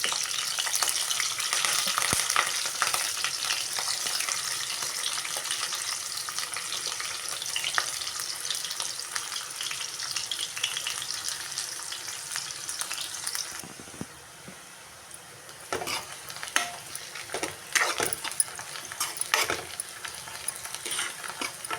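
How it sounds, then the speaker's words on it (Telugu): Onions fry in a pan with a steady sizzle and frequent stirring scrapes, the hiss easing partway through, then clinking and scraping of the spatula against the pan grow louder near the end. "కొంచెం అయితే ఉల్లిపాయలు వేగినాయి"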